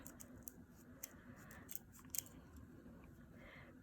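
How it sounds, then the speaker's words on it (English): Scissors snip through fabric in a few short, crisp cuts, faint and close, with soft rustling between. "So you always need to turn the fabric, not the scissors"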